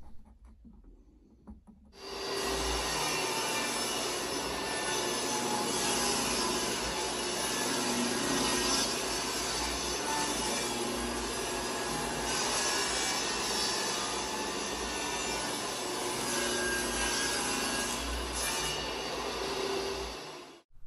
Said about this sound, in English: Now let's set our table saw blade an inch away from the fence and we'll set it back at a 30 degree angle.